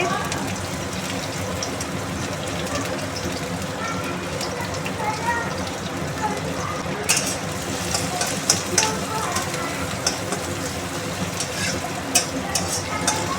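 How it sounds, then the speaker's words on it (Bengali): Chopped onion, garlic and green chili crackle in hot oil for a pot patol bharta, a steady close broadband sizzle with scattered spattering pops that grow sharper partway through, a voice talking faintly beneath. "এবার পেঁয়াজ কুচি রসুন কুচি লঙ্কা কুচি আগে থেকে কেটে রেখেছিলাম সেগুলোই তেলের পরে দিয়ে দিচ্ছি"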